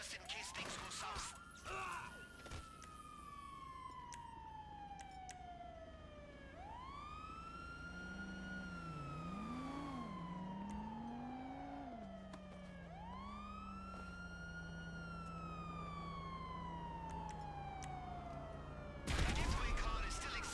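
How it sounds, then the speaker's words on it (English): Police sirens in a video game wail in long rising and falling sweeps, steady and fairly prominent, with a lower whooping tone underneath and brief bursts of game noise at the start and end. "I can hear the sirens from here."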